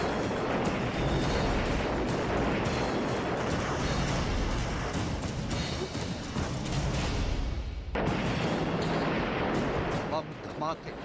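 Heavy, continuous bomb blasts and missile strikes rumble on in war-torn Ukraine with hardly a pause, broken by one sudden cut, and a voice talks over the din.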